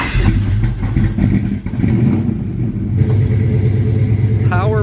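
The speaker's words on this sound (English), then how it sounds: "if you hear this thing running, it's got a nice lope to it too" A V8 truck engine idles with a loping, uneven rumble, loud and close, with a deep throb running throughout.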